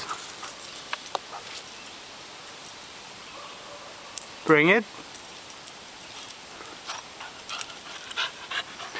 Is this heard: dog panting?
yes